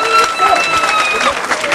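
A church congregation at a lively deliverance service claps and cheers loudly, and a roar of shouting voices blends with the clapping in a dense, continuous wash of crowd noise.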